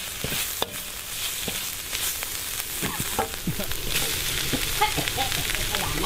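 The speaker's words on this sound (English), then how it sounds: "And then in go the garlic and chilies." Garlic and chilies sizzle and crackle loudly in a hot wok during stir-frying, with a steady hiss, the scrape of stirring, and occasional clatter close by.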